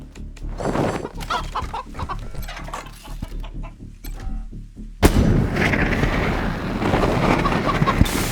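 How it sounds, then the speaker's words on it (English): Chickens cluck and squawk in Wasteland 3, several close birds in busy bursts, then a sudden loud blast at the midpoint gives way to dense gunfire and combat noise. "those are regular chickens"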